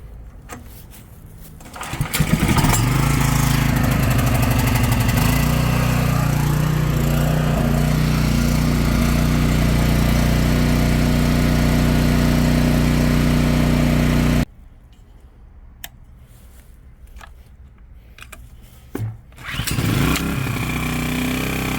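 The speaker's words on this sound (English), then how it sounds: "So now I'm going to let you guys hear what this generator sounds like versus the small one." A large portable generator engine starts and settles into a loud, steady, close-up drone. Partway through it drops out to a much quieter level, then starts up again near the end.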